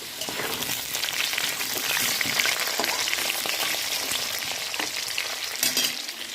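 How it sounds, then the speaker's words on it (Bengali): Potatoes fry in a pan with a dense, continuous sizzle and crackle, broken by frequent scraping stirs close by, with no speech. "আলু ভাজা।"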